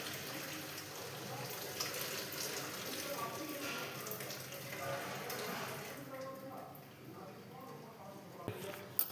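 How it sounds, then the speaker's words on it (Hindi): Water is poured off a pot of cooked rice, a running splash and trickle into a sink that flows steadily, then thins and stops, with a light clatter of the pot at the end. "मैं निकाल देती हूँ उनका पानी।"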